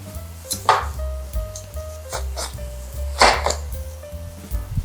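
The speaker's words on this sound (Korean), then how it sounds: "호박을 양쪽 끝은 잘라주시고요" A knife cuts through the ends of a round squash, giving two sharp chopping thuds on a board against a low background hum.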